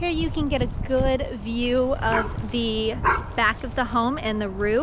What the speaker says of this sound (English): Pardon the barking. We have a very sweet neighbor that wants to be in the video.